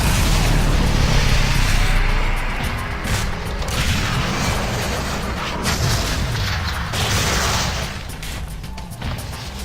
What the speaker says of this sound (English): predictable explosions and gunfire